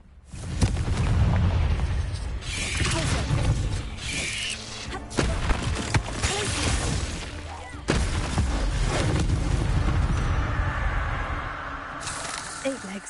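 Confringo spell blasts in Hogwarts Legacy, heavy booming explosions separated by pauses amid busy combat noise, with a person talking over the action.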